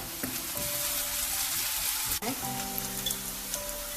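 Chicken masala with a little salt sautéing in a pan, a steady close sizzle and fry throughout, with a brief stirring scrape midway.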